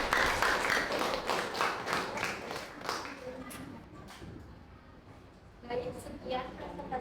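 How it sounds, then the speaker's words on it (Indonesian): Classmates in a classroom clap for a fellow student in a short, bright burst for about three seconds, then it fades into murmuring voices. "kita beri tepuk tangan untuk teman kita ya"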